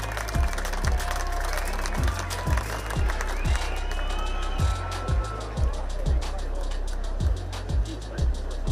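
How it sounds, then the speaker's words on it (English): A crowd at a boxing weigh-in applauds the fighters, a dense wash of claps and cheers over a loud, repeating low electronic thump of background music, with voices mixed in. "Round of applause for the fighters,"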